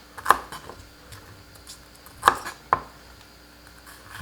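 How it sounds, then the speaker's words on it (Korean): Knife chopping byeongpung greens stems into 4–5 cm pieces on a cutting board: three sharp, separate cuts, two spaced well apart and the last following quickly, against a quiet kitchen background. "4cm에서 5cm로 썰어주세요"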